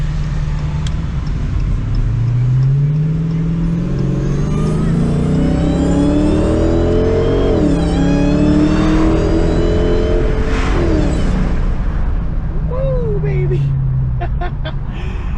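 A supercharged Dodge Challenger Hellcat V8 with a K&N Typhoon cold air intake accelerates hard, engine roaring and rising in pitch through the gears, loud and close with a brief shift in the middle.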